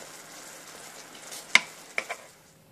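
Hamburger patties simmering in a creamy tomato sauce that is rapidly coming to a boil, a quiet low bubbling hiss broken by a few sharp pops and spatters.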